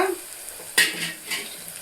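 Onions frying in a pan for aloo curry, with a faint sizzle and a sharp stirring scrape near the middle, followed by softer scraping movements close by.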